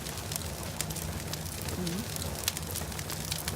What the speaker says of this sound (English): The sound of her bones breaking gets muted by the wood crackling in the flames.